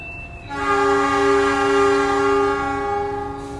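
A commuter train departing Pasuruan station sounds a steady, loud horn chord held for a few seconds over low background rumble, starting just after a brief thin tone.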